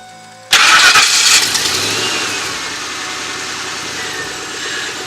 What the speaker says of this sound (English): Do you want to start it up, Bubba?